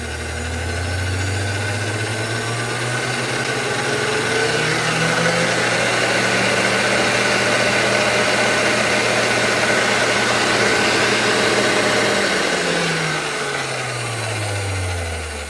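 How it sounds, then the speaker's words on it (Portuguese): A Kenwood KMix KMX93 stand mixer motor drones loudly and steadily, its pitch climbing as it speeds up to maximum toward the end. "conforme as velocidades vão aumentando, você consegue ver que toda essa área começa a trabalhar e realmente o barulho começa a subir"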